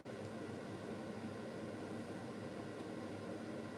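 An air conditioner runs indoors as a steady, even broadband hiss, constant and moderately quiet throughout with no other sounds.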